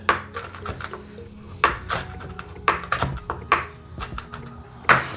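A sharp knife chops bacon into small pieces on a wooden cutting board, a series of crisp, close knocks in an irregular rhythm, about a dozen strikes with no talking.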